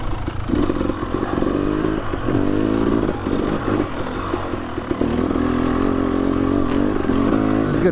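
Dirt bike engine revving and labouring steadily while climbing a wet uphill trail near Revelstoke, BC, loud and close throughout, with clattering chassis noise and surging throttle.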